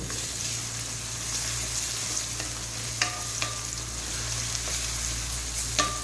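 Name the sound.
ginger garlic paste frying with onions in a pan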